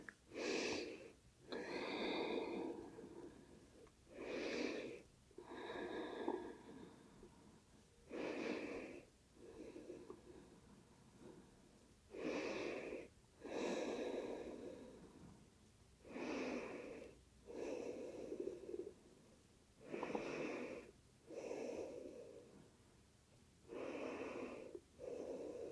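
Slow, deep breaths taken while resting in child's pose during a yoga session: long, rhythmic inhales and exhales with airy, slightly nasal rushes, repeating every few seconds, soft and close, with no talking.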